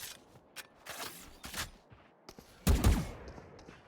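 Gunfire in the video game Valorant during a 5v5 competitive esports match: several quick bursts of shots, then a louder, heavier blast near the end, heard fairly close with no talk over it.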